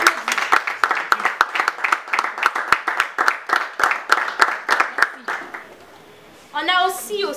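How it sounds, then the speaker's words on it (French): Audience at a foundation gathering applauds with a steady run of distinct claps for about six seconds, then the clapping fades out and a voice begins speaking. "On l'applaudit."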